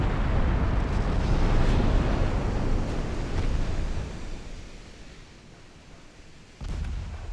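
Booming fire from a bow-mounted 10-inch naval gun aboard a cruiser in an 1893 Ottoman naval campaign video game. One heavy rumbling blast decays slowly, then a second sharp report lands near the end.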